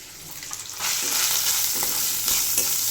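Leftover cooked rice hits hot oil with onion masala and is stir-fried, a quiet sizzle that jumps to a loud, steady crackle as the rice goes in, with occasional scrapes of the spoon.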